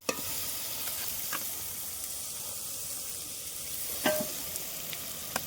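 Onions, green chillies, ginger-garlic paste and a couple of red chillies fry in a pan while being cooked down for a boti curry, a steady close sizzle with occasional scrapes and clinks of a stirring spoon.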